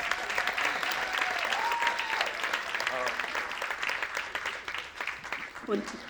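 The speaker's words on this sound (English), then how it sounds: "How about a round of applause for Dr. Winder and Robert Townsend?" An audience applauds Dr. Winder and Robert Townsend at the Brotherhood Centennial event, a steady, dense wash of clapping lasting the whole stretch while a voice talks over it.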